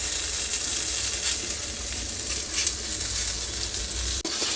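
A dosa frying with ghee on a pan gives a steady, close, hissing sizzle throughout, broken by one brief clack near the end.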